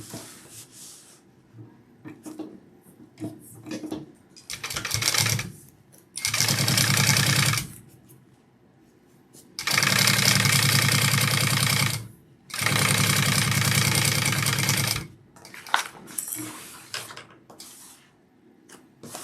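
Close sewing machine basting a centred handbag panel: several bursts of fast, steady stitching of two to three seconds each, with short gaps of fabric handling between them and no voices.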